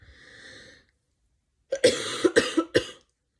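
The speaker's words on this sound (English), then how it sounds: "Still have this cough 4 weeks later." A brief wheezy breath, a pause, then a close burst of four harsh, rapid coughs from a lingering cough weeks after a cold.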